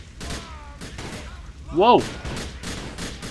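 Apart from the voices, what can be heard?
gunfire in video game GTA The Lost and Damned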